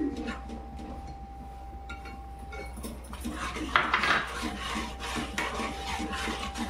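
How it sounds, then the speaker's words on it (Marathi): A spoon scrapes and rubs steadily around a pan as semolina is stirred in, a close, continuous gritty scraping with occasional louder metal clinks. "हा रवा वाटीभर थोडं थोडं करून टाकायचं आहे आपल्याला, आणि असं ढवळायचं आहे"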